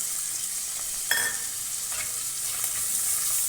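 Turmeric being stirred into a tomato and okra curry in a pan on the stove, giving a steady soft sizzle with a couple of brief scraping strokes and no voices.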